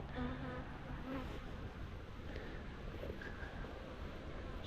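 Honey bees buzz around a hive outdoors, a faint continuous hum with soft wind noise and no voices.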